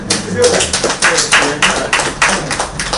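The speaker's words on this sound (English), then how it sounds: "Let's give her another round of applause." Applause for a 107-year-old woman at her birthday celebration in Trinidad and Tobago: a few loud, close hand claps land in an uneven rhythm, each a sharp slap, over a background of room noise.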